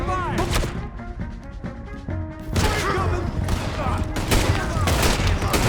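Red Dead Redemption 2 gunfire: rapid, repeated shots crack out close and loud in clustered bursts, mixed with game music and shouting voices.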